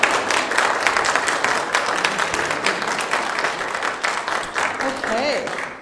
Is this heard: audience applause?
yes